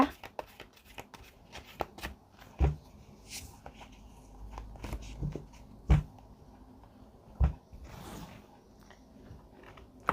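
Tarot cards shuffled close by, with irregular soft rustles and several sharper taps and thumps of the deck spread across the stretch, and no talking.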